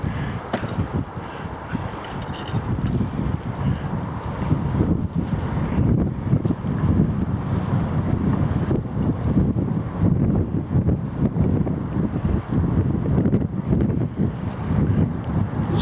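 Steady, heavy wind buffets the microphone on a riverside, a continuous low roar with faint water and surf sounds underneath and no speech.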